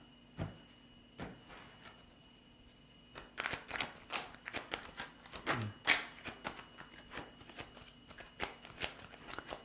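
Soft, quick riffling and tapping of tarot cards being shuffled close by, starting with a few isolated taps and then a steady flurry of shuffling.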